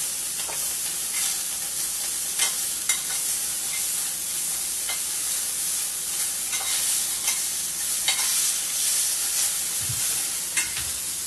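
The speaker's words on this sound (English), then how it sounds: "And that's that sear on them." Scallops searing in a hot pan for seafood chowder make a constant, close sizzling hiss dotted with sharp pops and crackles, with no voices over it.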